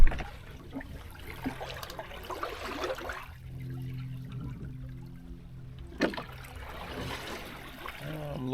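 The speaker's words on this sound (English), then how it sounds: "The boat is just cutting through the water. It's so silent, you can only hear the waves." Waves and water rushing along the hulls of a Hobie Cat 16 catamaran under sail at sea, a soft continuous wash and trickle with a brief splash near the end, quiet and close.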